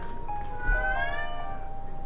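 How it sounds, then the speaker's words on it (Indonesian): A cat in heat lets out a loud, drawn-out wavering meow, close and prominent over faint background noise, with no talk. "Itu kalau denger kucing gue sekali lagi, mohon maaf ya guys ya, dia lagi berisik banget guys, lagi birahi itu"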